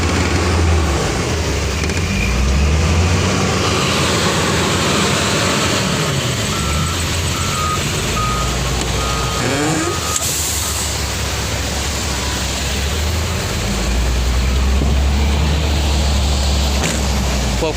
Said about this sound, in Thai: พอได้น้ำหนักเสร็จก็จะเลื่อนรถไปนะครับ เดี๋ยวเลื่อนรถไปก่อน